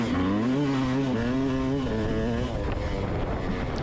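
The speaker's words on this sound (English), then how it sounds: "You can kind of hear the bike." A Yamaha YZ250X two-stroke dirt bike during a full-throttle off-road race lap, its engine bogging and struggling to rev out, a loud continuous droning note wavering in pitch with wind buffeting the microphone throughout.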